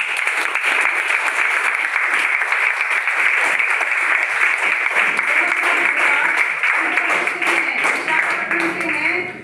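An auditorium audience applauds at a Hindi fortnight closing ceremony, loud dense clapping that fills the hall steadily for the whole stretch before tapering at the very end.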